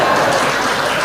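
An audience at a church service claps in a dense, continuous wash of applause that holds evenly at a loud level for the whole short stretch.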